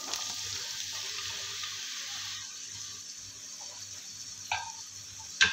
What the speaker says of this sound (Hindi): प्याज हमने डाल दी है, अब इसे फ्राई कर लेंगे अच्छे से, गोल्डन ब्राउन करेंगे।